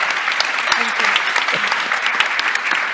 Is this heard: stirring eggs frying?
no